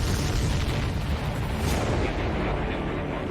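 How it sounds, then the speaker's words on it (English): Explosion of a downed enemy aircraft in the combat flight game Ace Combat 7, a broad, continuous roaring rumble that stays loud and dense for the whole stretch, with no voices over it. "Did you see that explosion? Looks like that's one of them down."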